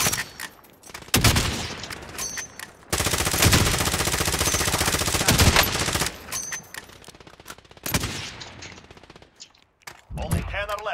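Dense bursts of rapid automatic gunfire from a shooter video game, loud and sustained in long stretches with brief pauses between volleys.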